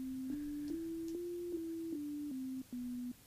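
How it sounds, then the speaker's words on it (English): A pure, steady sine tone from a single FM synthesizer operator stepping through several pitches, each note held briefly with small clicks at the changes, alone and fairly quiet. "One operator, sine wave."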